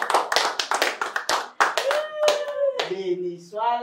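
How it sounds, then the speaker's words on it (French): A small group clapping at a gathering for divorced women, a quick burst of loose, uneven claps up close, fading as voices begin to sing and call out over the end. "Est-ce qu'on peut applaudir pour Denise?"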